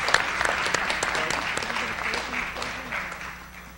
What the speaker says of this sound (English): please give them a round of applause and thank you to all of you.